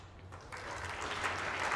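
Applause for Stuart Anderson from a snooker tournament crowd at the Scottish International Open, starting soft and swelling into steady clapping over a short stretch.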